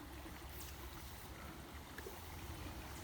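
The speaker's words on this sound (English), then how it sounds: "I know I heard water running. Water flowing through here." Steady, faint rush of water from a tiny waterfall, a soft continuous wash with no voices.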